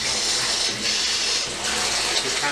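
Water rushes steadily from a shower mixer valve in a Phoenix home during an inspection, a loud, continuous hiss of flowing water with no pauses and no voices.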